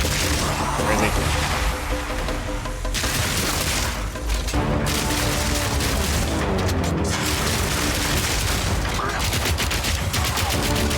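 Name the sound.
armor-piercing rounds gunfire in video game Path of Exile 2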